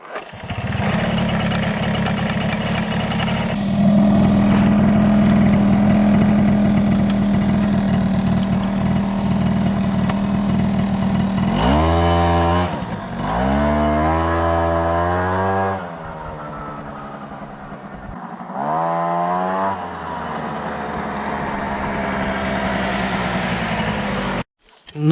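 A Piaggio Ciao moped with a variator engine starts and is ridden, a loud buzzing two-stroke drone that rises in pitch with several sweeping accelerations and drops, holding steady between revs.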